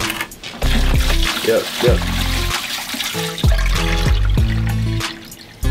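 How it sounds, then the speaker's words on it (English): Salt water mixed to about 1.025 specific gravity poured into a home aquarium tank: loud repeated glugging pours and splashing in bursts, with a person talking briefly over it. "we're ready to put this water into the tank"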